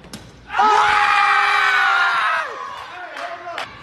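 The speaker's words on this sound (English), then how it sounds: "Come on, the crowd's going crazy!" A wildly excited crowd screaming and yelling, with a loud sustained high-pitched roar of voices that rises suddenly, holds for about two seconds, then fades into scattered shouts.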